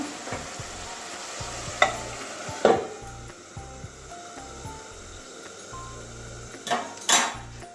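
Whole kachki fish cook in a mustard sauce on medium heat, a soft continuous sizzle and bubbling with a few sharp clinks and scrapes of a pan or lid scattered through, close by and alone.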